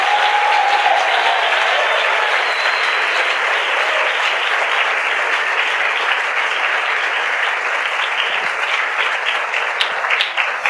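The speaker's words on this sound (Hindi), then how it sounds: "क्या हम प्रभु के लिए जोरदार ताली बजा सकते हैं?" A church congregation claps loudly for the Lord during a worship service, a sustained, dense burst of applause from a full crowd that continues steadily and evenly without any pause for the whole stretch.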